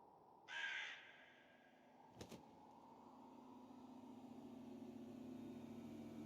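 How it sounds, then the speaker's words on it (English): A single crow caws once in the video game The Seance of Blake Manor, a short, harsh call, followed by a faint click and then a low, steady hum that slowly builds in the background. "Another crow?"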